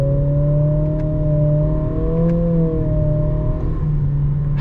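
A 2025 Acura ADX A-Spec Advance compact crossover accelerates, its engine droning steadily and rising slightly in pitch under a constant cabin road roar, heard from inside the car.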